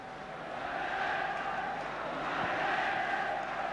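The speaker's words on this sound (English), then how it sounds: "and the crowd complained" A football crowd at a Liverpool versus Newcastle United match grumbles over an offside call, a dense, steady roar of many voices from a distance that swells slightly without any single clear shout.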